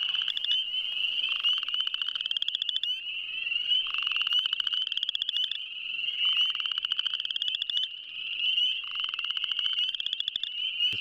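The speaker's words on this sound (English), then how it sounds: "That is a chorus frog." Chorus frogs call from a spring pond in steady, rapid trilling bursts, the loud, close rasping pulses repeating in rhythmic waves with short pauses between them.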